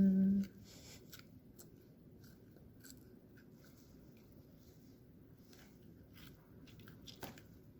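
Scissors cut through the tough aorta of a pig heart during an anatomy lab dissection, giving quiet, sparse crunchy snips and squishes against a faint background.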